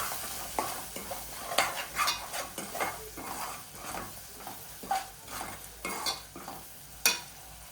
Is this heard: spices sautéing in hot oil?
yes